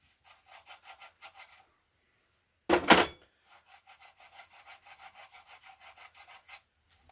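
Rusty threaded part on a classic car's hub and drive shaft wound back and forth by hand, giving short, even rasping strokes in two runs split by one louder, harsher scrape, close and fairly quiet with no talk.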